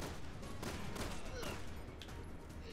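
Rapid gunfire in Resident Evil 6 as enemies are shot down, a dense burst of overlapping shots with a faint voice in the background, quiet overall.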